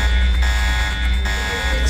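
An alarm blares continuously and loudly inside the stealth game Deus Ex, a steady droning buzz with dense layered tones filling the space throughout.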